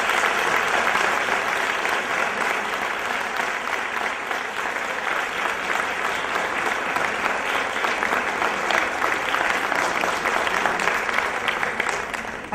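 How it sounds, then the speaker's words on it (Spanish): Loud, sustained audience applause for a speaker at the Consudec 2014 conference, a dense wash of clapping from a large crowd that holds steady for over twelve seconds with no talk over it. "fuerte aplauso para él"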